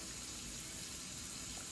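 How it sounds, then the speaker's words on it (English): Warm tap water runs steadily while hands are washed with soap at a kitchen sink, a continuous close hissing flow with no pauses or voices. "my customary hand washing that I get a lot of comments on"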